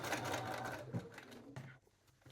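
A sewing machine stitches a jeans waistband in a steady, fast mechanical whir with a light ticking rhythm, close and fairly quiet, briefly slowing and stopping near the end.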